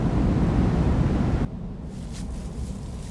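Steady roaring winter wind on Jiri Mountain at night fills the first half, then drops abruptly to a quieter, gusty rush; no voices.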